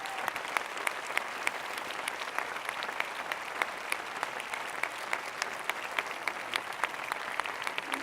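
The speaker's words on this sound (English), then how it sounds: "je voudrais qu'on les applaudisse et qu'on les remercie" An audience at the Rencontres d'Arles photography festival applauds the festival team, a dense and steady round of clapping that holds evenly throughout at moderate distance.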